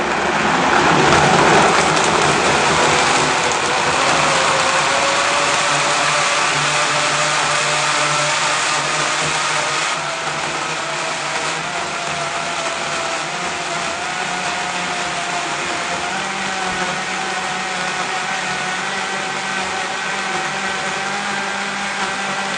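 Vacuum blender running hard on a carrot ginger smoothie, a loud, dense, steady roar that softens a little partway through as the blending settles, close up with no talking.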